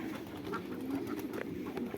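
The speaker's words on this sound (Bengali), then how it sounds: "আর এগুলো হলো কবুতর" Pigeons in a farm coop coo softly and repeatedly, close by, over a low murmuring background with no one speaking.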